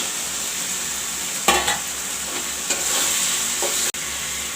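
Potatoes fry in a brown masala for egg curry, a loud, steady sizzling hiss close up, with occasional stirring scrapes and a brief clatter.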